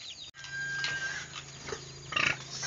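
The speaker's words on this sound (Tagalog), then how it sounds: "yan pong baboy po natin sa likod mga ka-farmers" A pig on a farm gives grunts and snorts amid background farm noise, fairly close, with a louder burst near the end.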